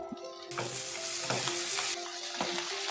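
Boiled peas and French beans hit hot butter and onion for palak pulao with a loud, bright sizzle. The sizzle surges after a quieter start, eases after about two seconds and carries spatula strokes throughout, with no talking.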